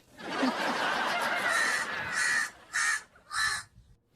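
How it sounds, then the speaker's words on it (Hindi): A crow caws in a TV comedy scene, a long raspy call followed by three shorter, separate caws, heard fairly close and alone. "आज सुबह से ही कौवा बोल रहा है।"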